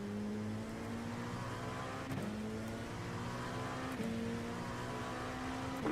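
A Ferrari race car in the iRacing sim at the Daytona 24 Hour, its engine holding a steady high drone with brief gear-shift dips as it runs alongside, no talking.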